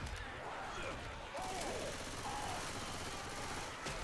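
Bursts of rapid automatic gunfire from a competitive shooter video game scrim match, loud, dense crackling volleys that run almost without a break, with occasional sharper impacts.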